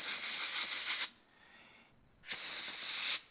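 Two strong bursts of compressed air hiss loudly while blowing debris out of a chainsaw part, each lasting about a second, with a short quiet gap between them.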